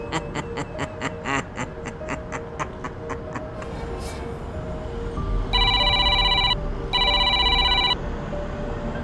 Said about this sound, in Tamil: உங்கள் ஃபோன் அடிக்குது.